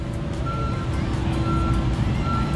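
A truck at a commercial excavation site sounds repeated reversing beeps, evenly spaced tones over a loud, rumbling diesel engine close by.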